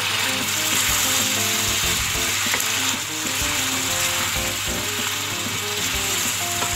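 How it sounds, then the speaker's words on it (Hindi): Chicken and garlic fry in a pan for biryani, a loud, continuous close sizzle with occasional scraping clicks throughout and no voices. "अब मैं इसमें लहसुन डालकर भूनूंगी इसको।"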